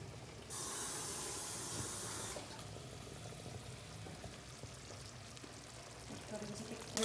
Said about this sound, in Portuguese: deixo o polvo um pouquinho no azeite